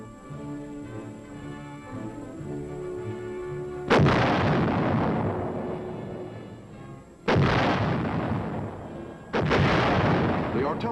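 US heavy artillery pieces fire three loud, separate booming shots, each followed by a long rolling decay, over a low steady background hum.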